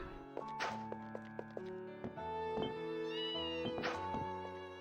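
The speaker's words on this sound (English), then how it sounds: "Say hi to all the cats." Cats meow in the Altago City streets of the video game Ys Seven, a few short rising cries set against steady, tonal background game music.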